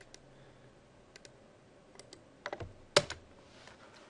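Typing on a computer keyboard: scattered light key clicks early on, then a denser cluster of sharper, louder keystrokes near the end, with no talking.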